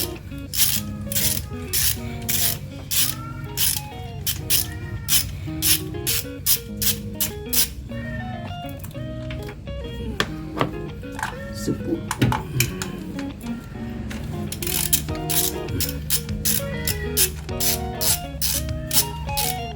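A bolt is loosened from the rocker cover of a Nissan Serena C24 engine with a ratchet, rapid close clicking bursts repeating steadily, with a voice speaking over parts of it.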